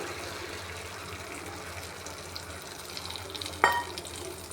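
Carrot and egg omelette mixture frying in a pan, a steady soft sizzle and hiss with a brief louder clatter near the end as it is handled; no talking.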